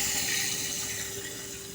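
Water poured into a hot tempering of curry leaves in a pan while making soft khaman dhokla, a steady close rushing pour that lasts the whole moment with no talk.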